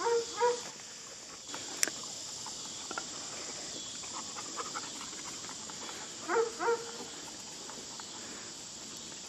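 A dog named Tough barks in short distant pairs, once near the start and again later, over a steady chorus of crickets outdoors.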